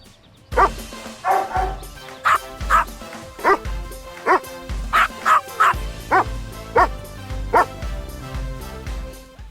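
Several dogs in a Buick Enclave commercial bark and woof in a lively series of about a dozen sharp, close barks, mixed with yips and whimpers over a faint background.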